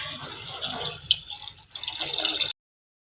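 Water pours from a glass onto rice in a pot for tomato bath, a steady splashing stream lasting about two seconds with a brief pause before stopping abruptly.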